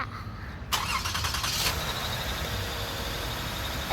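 Toyota Sienna engine fitted with a new exhaust Y-pipe cranks briefly and fires up, then settles into a steady idle heard from close by.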